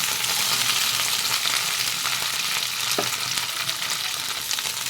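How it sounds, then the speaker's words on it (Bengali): Chopped flat beans fry in hot oil with a steady, dense sizzle, close and fairly loud throughout, with a brief scrape of stirring partway in and no voices. "সিমটা ভালো করে আমি ভেজে নেব এখানে সব সিমগুলো ঢেলে দিয়েছি"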